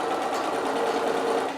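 Steady, continuous whir of a sewing machine stitching layers of fabric and wadding for a gift box, close and even throughout, with no talk.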